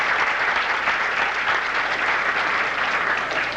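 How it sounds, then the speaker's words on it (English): Audience applause at the Miss Malta of Toronto 1983 pageant as contestants come out, a sustained, dense round of clapping from a large crowd, even and steady throughout. "How about giving a nice round of applause for the girls as they come out"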